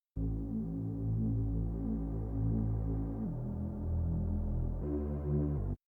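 A jungle Reese bass synth patch in Serum, low-pass filtered, plays a sustained, deep, buzzing and slightly throbbing bass tone that steps down in pitch partway through and back up near the end, with no talking.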